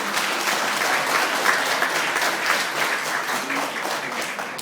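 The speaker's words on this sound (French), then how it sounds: "Alors il mérite votre applaudissement." An audience claps steadily in a room, a continuous even patter of many hands that holds at moderate loudness and tapers slightly near the end.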